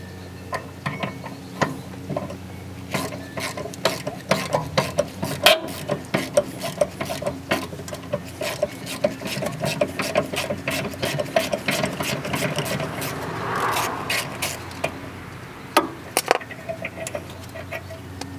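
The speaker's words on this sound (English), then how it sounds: "Something I like to do before unbolting calipers on these is to unbolt the brake line" A wrench works loose the brake line bolt at the rear caliper of a 2003-2007 Honda Accord, giving repeated close metallic clicks and ratcheting taps in irregular bursts over faint background hum.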